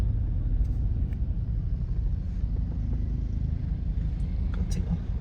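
Large prison truck driving along a main road during a state mourning period, a steady low engine rumble moving past at moderate distance, continuous with faint background sounds.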